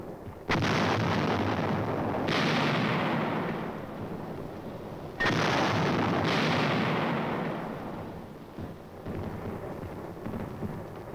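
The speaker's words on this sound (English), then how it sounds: "Surface and air bursts clear the way for the riflemen." Surface and air artillery bursts pound entrenched positions during an infantry assault: two massive booming blasts, each followed by long rolling rumble that slowly fades, then a further deep thud as the rumble trails off.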